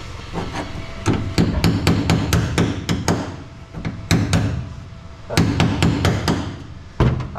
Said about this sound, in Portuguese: é só bater com a talhadeira